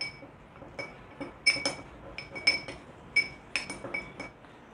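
Spoon clinking against a glass bowl while custard powder and emulsion are stirred together, a series of bright ringing taps in irregular clusters, close and clear with no talk.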